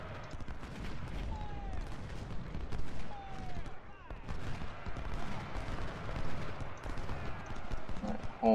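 Musket volleys in the Civil War strategy game Ultimate General: scattered gunfire crackles and booms over a busy battle din, with someone talking at times.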